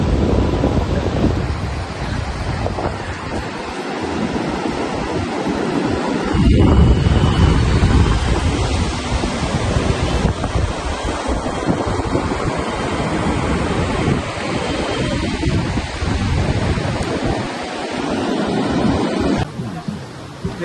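Sea waves wash onto a beach in a continuous loud roar of surf mixed with heavy wind buffeting the microphone, with faint talk.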